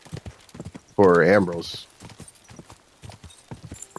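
A horse's hooves clip-clop steadily in the video game Kingdom Come Deliverance 2, with a loud whinny in the middle, while someone talks over it.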